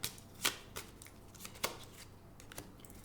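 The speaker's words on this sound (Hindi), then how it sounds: "सो मैजिक ऑरिकल से लेट्स गेट सम कार्ड्स" Cards from a Magic Oracle tarot deck are drawn and shuffled, giving a few crisp, papery flicks and slaps close to the microphone with short quiet gaps between them.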